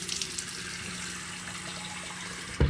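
A bathroom tap runs to wet someone's face before bed, a steady hiss of flowing water at close range ending with a short thump.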